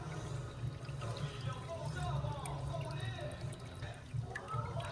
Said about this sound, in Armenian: ջուրը հոսում է գետակով